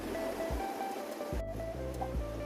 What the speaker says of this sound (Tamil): குழம்பு நல்லா கொதி வருது